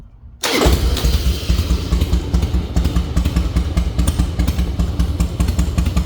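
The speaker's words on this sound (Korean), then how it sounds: "그리고 이제 트윈텍 이그니션 모드를 물론 타이밍 세팅하고요. 시동 한번 걸어보겠습니다." A 100th-anniversary Harley-Davidson Fat Boy with Twin Tec ignition and adjusted air screw fires up abruptly after a brief hush, then settles into a loud, close, steady lumpy idle.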